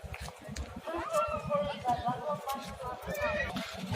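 A horse whinnies loudly at a livestock market in Özgön, in a long, wavering neigh, followed by a second shorter call, while people talk nearby.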